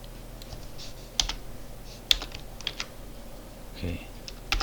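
Keys tapped on a computer keyboard while coding in Python, a few scattered sharp clicks over a low steady room hum, faint and irregular with no clear speech.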